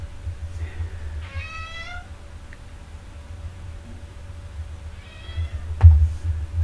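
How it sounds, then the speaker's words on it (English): A house cat complains at a door that isn't shut, letting out two distinct drawn-out meows a few seconds apart in an otherwise quiet room. "It's that time of day where my cat's gonna complain."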